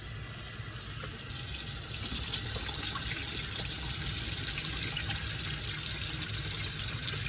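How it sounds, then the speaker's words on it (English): Running tap water gushes steadily over salted cabbage leaves being rinsed for kimchi, a close, continuous splashing hiss that grows a little stronger after the first second, with no voices. "and then rinse again. Getting all that salt off."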